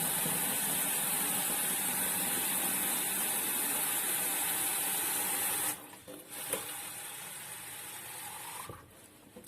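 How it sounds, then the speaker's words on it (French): Hot tap water gushes steadily into a plastic spray bottle for several seconds with a bright, hissing rush, then stops, leaving a few faint clinks and handling noises. "Et je vais venir compléter avec de l'eau chaude."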